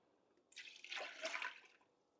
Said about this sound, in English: I'm going to add 3 cups of water into the Instapot.